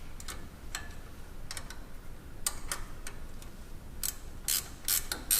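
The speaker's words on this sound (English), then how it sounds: "Tighten that down with a 7/16 inch wrench." A wrench ratchets a 7/16 inch bolt tight on a P-clamp during a Toyota Tacoma coilover lift install, giving bursts of sharp, close clicks in short irregular runs, with brief pauses between.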